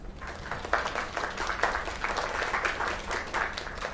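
A crowd applauds and claps steadily for a few seconds, dense and fairly loud, with no voices above it.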